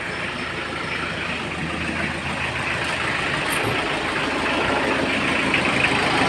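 A Kia Sportage engine runs at a steady idle after a hard-start and smoke repair, a constant close rumbling drone that holds even throughout with no voices.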